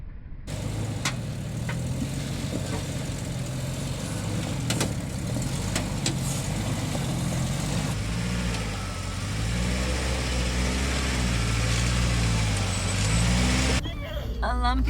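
A Jeep Wrangler Rubicon's engine rumbles low and steady as the vehicle heads onto a lumpy trail, with the engine note rising and falling under occasional voices and cabin noise.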